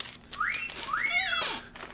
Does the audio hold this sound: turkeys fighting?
no